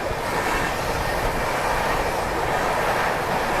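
Passenger train rolling along rails at speed while passing another train, a steady broad rumble and rush of wheels and air, loud and continuous with no voices.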